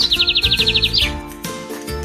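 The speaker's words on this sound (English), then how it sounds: "Birds are flying in the sky." Rapid series of about a dozen bright bird chirps in quick rhythm over roughly one second, clear and close, followed by a faint background bed with a soft low thump.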